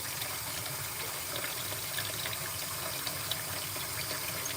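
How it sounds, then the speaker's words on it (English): Water pours steadily into a kitchen vessel with a continuous, even rushing flow, fairly close and moderately loud, with no talking. "Let me see if I can get a little water in there."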